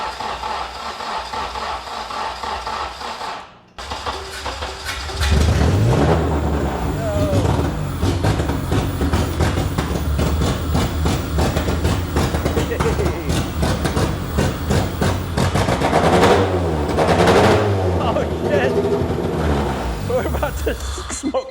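A budget K-swapped EK Honda Civic cranking over and firing up, then settling into a loud, steady rough idle with smoky running, close by, with voices talking over it.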